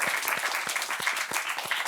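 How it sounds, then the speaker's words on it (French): An audience applauds the guests at the close of a French health programme, dense steady clapping filling the whole stretch at moderate level, with no voices over it. "Vous pouvez vous applaudir vous-même, en fait."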